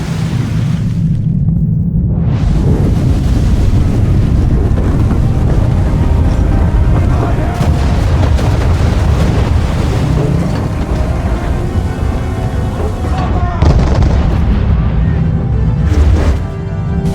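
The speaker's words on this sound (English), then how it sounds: "But this storm concerns me a great deal more." Roaring storm at sea in Assassin's Creed 3: continuous loud wind and crashing waves fill the scene, with heavy booming surges rising and falling throughout.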